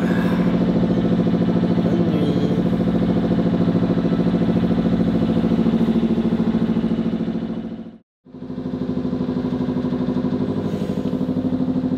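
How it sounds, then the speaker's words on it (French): The small engine of a catamaran runs steadily at sea, a loud continuous low throbbing drone with a rhythmic pulse, briefly cutting out for a moment before resuming at the same even pace. "C'est sympa, ce petit bruit de moteur."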